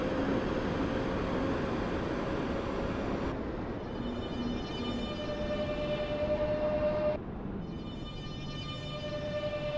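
A train running in the video game Stepford County Railway, a steady rumbling drone with tonal whines that shift abruptly twice, moderately loud and continuous with no talk.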